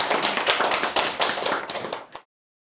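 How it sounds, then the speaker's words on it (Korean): A short burst of close applause, several people clapping briskly for about two seconds before it cuts off abruptly. "박수."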